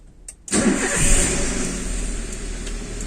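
A car engine cranks briefly and catches at about half a second, then settles into a steady, loud idle close by with no talk, started with the key as part of an engine management system check.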